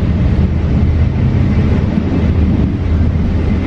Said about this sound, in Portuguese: Viajar de trem aqui pela região do Piemonte é muito legal.